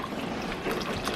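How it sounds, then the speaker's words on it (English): Water pours into a cooking pot for hog balls and grits, a brief, close, steady trickling splash. "And then I'm gonna add some water."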